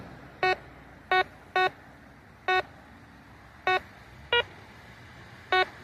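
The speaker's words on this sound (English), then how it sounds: "swinging the detector, hit that low tone" Metal detector swung over a field gives a short electronic tone signal, repeating seven times at irregular intervals of roughly half a second to a second, each one clear and fairly loud over quiet background.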